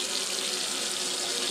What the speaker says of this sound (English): I'm going to add 8 cups of hot water because everything is hot